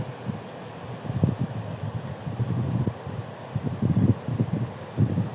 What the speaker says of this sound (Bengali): দেখেন সাগরের আজকে কত বাতাস, প্রচুর বাতাস এবং ঢেউ রয়েছে